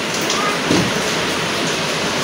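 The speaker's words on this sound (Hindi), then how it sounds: "बारिश हो रही है" Steady rain falling outside a home by an open doorway, a dense, even hiss with no breaks, close and moderately loud, with no voices.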